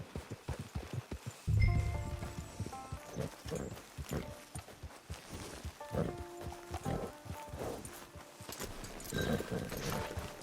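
Horse hooves clip-clopping at a walking pace in Red Dead Redemption 2 Online, a steady rhythmic series of hoof falls alongside game music and ambient sounds.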